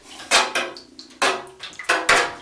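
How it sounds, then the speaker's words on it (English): A dirty dipstick whisks oil and antifreeze in a container for a 1967 Massey Ferguson 165, giving a series of sharp clinking, scraping knocks in irregular bursts, close and fairly loud. "you whisk them together with the dirty dipstick until it's nice and aerated"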